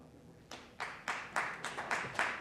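At a university debate, faint audience clapping comes as a short run of about eight evenly spaced claps, distant and thin rather than a full ovation.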